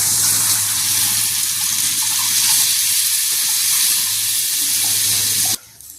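Vinegar hits a hot pan for a fish pickle (meen achaar) and sets off a loud, steady sizzle that holds for about five seconds. It cuts off abruptly into near-silence.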